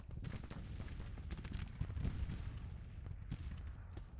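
Distant, faint musket volleys and rumbling artillery crackle continuously in a Grand Tactician: The Civil War battle at Antietam, a dense muffled roll of gunfire with no talk.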